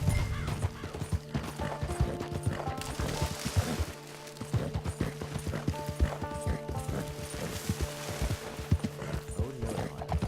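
Horse hooves in the video game Red Dead Redemption 2 Online: rapid, busy clip-clop of a galloping horse with tack jangling and game effects, loud and continuous, with a brief lull midway.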